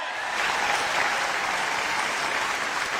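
Steady, full applause from a live audience at a Hindi poetry and comedy stage event in Dubai, dense clapping that holds loudly and evenly from start to finish with no voices over it.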